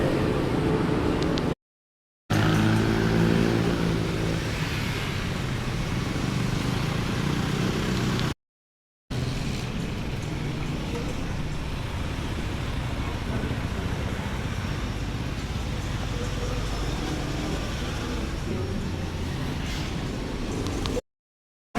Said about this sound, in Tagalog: Highway na tayo guys.